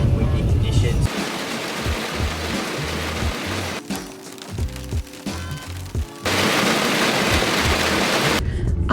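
Heavy rain drums hard on a moving van in rainy, windy conditions, easing for a stretch while a voice speaks over the engine, then the downpour roars back.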